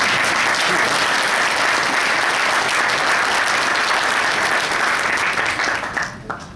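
Sustained applause from an audience at a business presentation, dense and steady clapping that carries on evenly before thinning out near the end.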